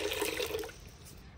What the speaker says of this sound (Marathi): कढईमध्ये पाणी ओतून घेऊ।